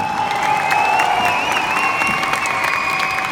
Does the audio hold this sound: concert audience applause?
yes